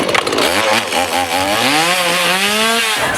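A chainsaw engine roars loud and close at a haunted house attraction, its pitch sliding upward as it revs and holds a steady high whine.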